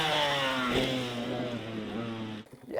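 A 125cc two-stroke dirt bike is ridden hard with a steady, loud buzzing drone close by, dipping abruptly near the end.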